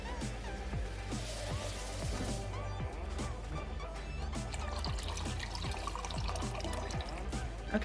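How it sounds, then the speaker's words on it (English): Water pours and trickles into a large pot of rice for Jollof rice, a quiet, continuous splashing with small drips and gurgles over a low background hum, no voices heard. "So I'm gonna add enough water."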